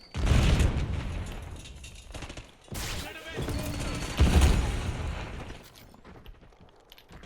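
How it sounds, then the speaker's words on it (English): A Semtex grenade explosion and gunfire in a multiplayer shooter, with heavy booms and rumbling bursts that swell and fade under game voice callouts. "Incoming Semtex."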